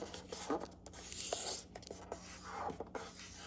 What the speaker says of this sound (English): I'm going to fold it in half best I can